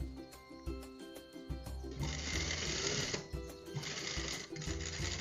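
A sewing machine stitches a blouse shoulder seam, its motor whirring in steady bursts with brief pauses between runs and a continuous mechanical hum close up.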